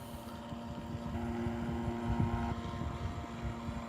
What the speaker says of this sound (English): Here goes someone on a jet ski.